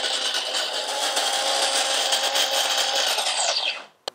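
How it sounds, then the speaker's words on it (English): An electric coffee grinder grinds whole coffee beans in a steady, loud, dense whir that holds for about three and a half seconds, then winds down and stops, followed by a single sharp click. "now the first step is to grind the beans"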